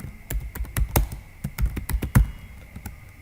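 Typing on a computer keyboard while entering a name into a resume document, a close series of quick clicky keystrokes in irregular bursts with short pauses between.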